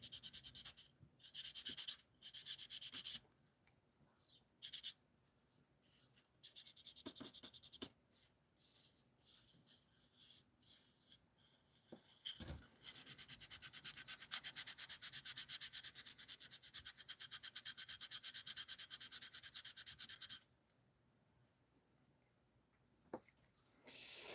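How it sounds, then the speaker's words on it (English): Steady, raspy scraping of sanding, running in long strokes with short pauses, fairly close and alone. "Nick, I'm sanding."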